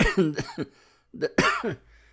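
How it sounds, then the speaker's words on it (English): A talk-show host coughs in a few harsh, close bursts, with a short gap before a final throaty hack and a bit of throat clearing. "Oh my god, you guys, this cough."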